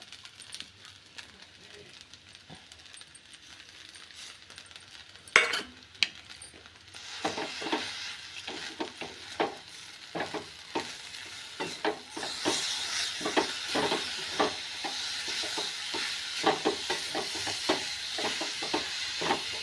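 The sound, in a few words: sautéing sabudana khichdi with peanuts in pan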